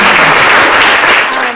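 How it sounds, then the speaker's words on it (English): Loud, sustained applause from a live audience fills the whole stretch, a dense wash of clapping that tapers slightly toward the end, with no talk over it. "give a big round of applause to Ms."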